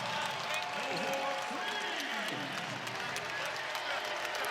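Basketball arena crowd at an ACC men's college game roaring after a made three-pointer, a loud sustained cheer with sneaker squeaks on the hardwood and a commentator talking over it.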